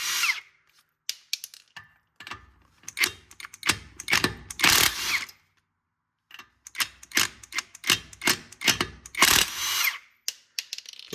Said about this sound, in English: And take your lug nuts off. That's going to be, what, 19? 19 mil.